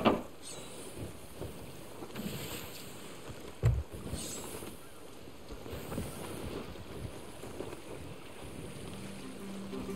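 Steady wind rushing over open water as a sailing ship heads into the wind in Sea of Thieves, with a faint watery wash and a brief thump partway through, moderately quiet and continuous.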